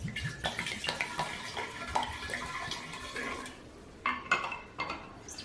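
Water sloshing and swirling as a container is rinsed with a Campden tablet solution while preparing honey mead, with clinks of a vessel and irregular splashes, close and moderately loud.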